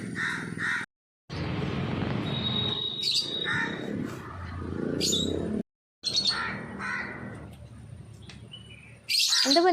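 A pet parrot calling with harsh squawks and short chirping cries in separate bursts, broken by brief silent gaps and close to the listener.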